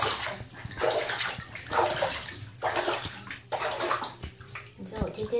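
Running water fills a bathtub during a small child's bath, a steady close splashing rush that carries throughout while adults talk and a voice comes and goes over it.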